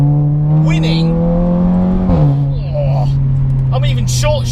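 A front-wheel-drive Seat Leon Cupra hot hatch accelerates hard, its engine note climbing, then dropping sharply at a quick upshift before pulling again, loud and close, with someone talking over it.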